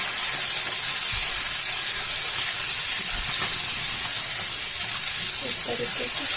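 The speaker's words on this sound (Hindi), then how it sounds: "पिसा हुआ टमाटर और प्याज डालेंगे, इसे हम भून लेंगे।" Ground tomato and onion fry in a hot pan, giving a steady close sizzle and hiss throughout with faint stirring sounds.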